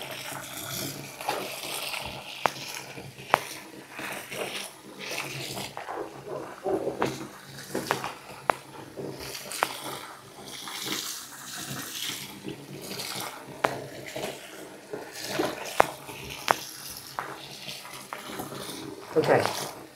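An antique Persian rug is washed and kneaded in a bathtub full of water. Close sloshing, splashing and running water continue throughout, with a voice speaking over it at times.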